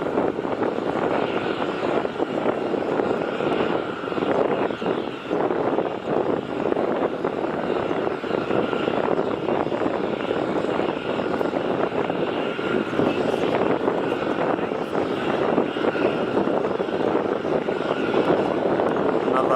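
A Virgin Australia Airbus A320 lands at Melbourne Airport, its engines making a loud, sustained roar with wind buffeting the microphone, while a person talks over it.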